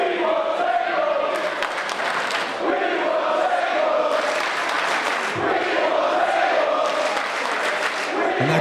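Cheering and applause from a crowd at a live wrestling match, a loud steady roar with swells of clapping and shouts throughout.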